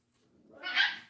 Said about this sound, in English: So they like to fight still.